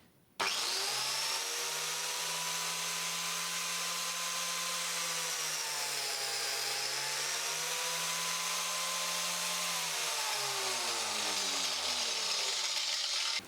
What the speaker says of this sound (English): I'm going to switch the machine on, and then I'm just going to plunge it in to give us our cut